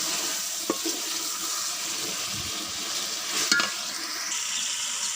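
Meat being stirred with soy sauce in a pot makes a steady wet, scraping sizzle throughout, with a couple of brief louder clinks or scrapes, and no voices.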